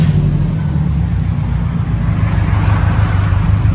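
A 2006 Subaru Outback XT with a Flowmaster Super HP2 exhaust and the mufflers and resonator removed rumbles loudly close by, a deep, steady idle burble with no talking.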